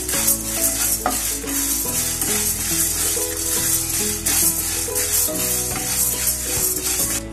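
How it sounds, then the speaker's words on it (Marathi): Chana dal dry-roasting in a pan while being stirred steadily, a continuous dry rustling and scraping with faint sizzle and occasional utensil clinks, close and moderately loud throughout, with no talking. "डाळ भाजत आली आहे, थोडा वेळ भाजूया।"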